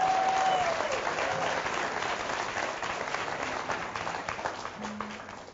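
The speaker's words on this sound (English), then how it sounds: "Let me give him a hand of applause." An audience at a church sermon bursts into sustained applause, dense many-handed clapping that stays loud and steady throughout, slowly tapering near the end.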